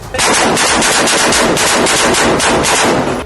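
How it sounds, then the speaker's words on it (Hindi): Israeli soldiers fire guns during fighting in Gaza: a loud, sustained burst of rapid automatic gunfire with dense, repeated shots, close and harsh, running unbroken for about three seconds with no voices. "हाथों में बंदूकें लेकर हमास के गढ़ में दौड़ते इजराइल के सैनिक बीच बीच में गोलियां चलाते भी दिखे"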